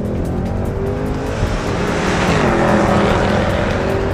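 Mercedes-Benz C63 AMG with its 6.2-litre engine roaring loudly and steadily through the exhaust under hard acceleration, close and continuous, with a faint tire squeal.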